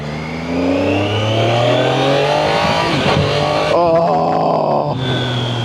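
The engine of a 2025 Triumph Daytona 660 motorcycle revs loudly up close, its pitch climbing steadily, then wavering and dropping back before another short blip. No one talks.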